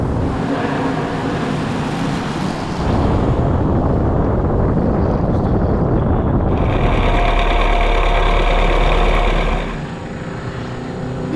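A Plymouth XNR engine runs loud and steady at a historic racing festival at Lime Rock, its tone shifting partway through and easing slightly near the end.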